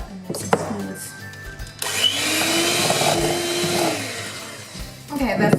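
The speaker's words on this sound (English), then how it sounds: "I'm going to beat these together until they're like coming together and nice and smooth" An electric mixer beats cashew butter and peanut butter together in a bowl for a vegan cappuccino blondie batter, a steady whirring drone lasting a few seconds, framed by clattering and a voice talking.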